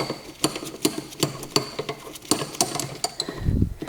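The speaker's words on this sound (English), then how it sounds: "we're going to be loosening these 10 millimeter bolts that hold down the airbox top part" A ratchet or wrench loosening 10 mm bolts on the airbox top of an FD Mazda RX-7, heard as close, quick, evenly spaced metallic clicks in short runs, ending in a soft low thud.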